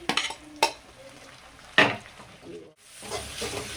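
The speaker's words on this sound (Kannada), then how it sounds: "ನೀಟಲ್ಲಿ ಎಣ್ಣೆ ಬಿಟ್ಕೊಂಡು ನೀಟಾಗಿ ಫ್ರೈ ಆಗಲಿ" Green chillies and curry leaves fry in hot oil, with a sizzling hiss broken by a couple of sharp spoon-on-pan clanks and a burst of louder spattering near the end.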